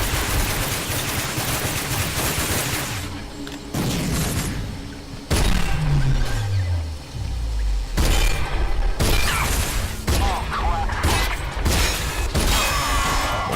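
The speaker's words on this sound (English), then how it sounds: "Lob a grenade in his direction." Combat in the shooter RAGE: a grenade lobbed at a soldier bursts amid loud gunfire, with a descending whine, sharp crashes and a string of explosive bangs and impacts, no talk.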